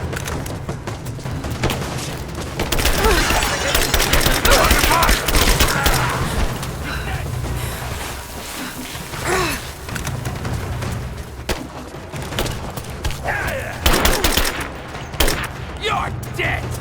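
Dense, continuous gunfire in Rise of the Tomb Raider, with bursts and booming shots layered over one another at high, steady loudness for the whole stretch, and game voices shouting through the combat.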